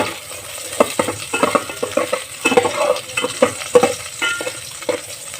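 Onion and ginger sauté in hot oil in a pan, a steady sizzle broken by frequent scraping and clinking strokes of a utensil against the pan, close and moderately loud, no talk.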